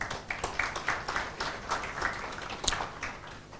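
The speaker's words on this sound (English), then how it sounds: "So please, let's thank him with claps." Audience applause at an emergency medicine and critical care symposium in a hotel, a steady patter of many hands clapping for a few seconds, moderately loud with no talk over it.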